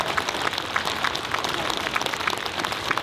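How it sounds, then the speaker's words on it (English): An audience at a strongman games competition applauds in a dense, even patter of clapping that holds steady throughout. "Give a round of applause if you actually heard them compete."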